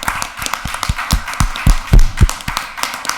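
Applause from a city council meeting audience, a handful of distinct, uneven claps close by, loud and sparse rather than a full ovation, with no talking.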